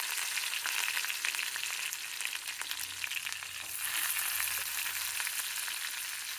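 Onions and green chillies fry in hot oil, a continuous close crackling sizzle with scattered pops and no voices, fairly quiet overall.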